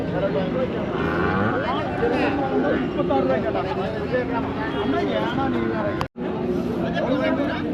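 Cattle being loaded up an earthen ramp at the busy Anthiyur livestock market, with occasional moos amid steady crowd chatter and market hubbub throughout.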